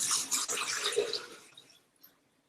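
Coconut water pours into a blender in a steady, close splashing stream that tapers off into a few faint trickles and drips.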